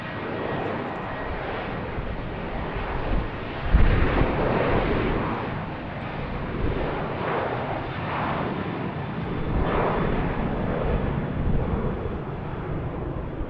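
A fixed-wing airliner departing BWI airport, its jet engines delivering a sustained, powerful roar that swells and pulses gently over several seconds, heard from a distance outdoors.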